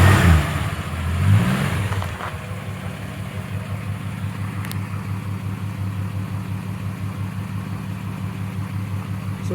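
A 1973 Plymouth Duster's engine gives a short, loud rev at the start, then settles into a steady, even idle that runs close and alone for the rest of the stretch.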